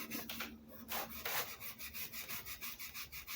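Steel wool rubs back and forth with finger pressure across the finished body of a Les Paul guitar being built, making a quick, regular series of soft scratchy strokes, close up and quiet.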